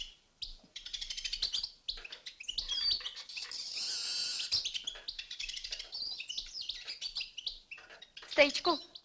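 Songbirds chirping and trilling close by, a lively stream of high, bright calls with brief pauses and a denser burst toward the end.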